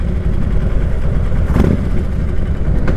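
A 2012 Harley-Davidson Street Glide motorcycle engine heard while riding, a loud continuous rumbling drone with steady low throb and wind rush, slight surge midway, no voices.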